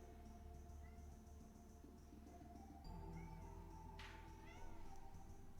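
House cat meowing indoors: a few soft, drawn-out mews, quiet and close over a steady low hum, with a sharper burst of sound near the end.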